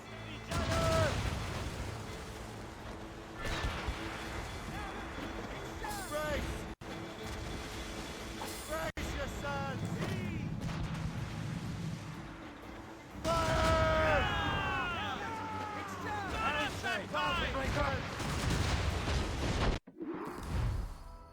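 Ship cannons fire in the naval combat of Assassin's Creed Rogue: repeated booming volleys and whooshing shots over rolling sea and ship noise, loud and close, with voices talking in between.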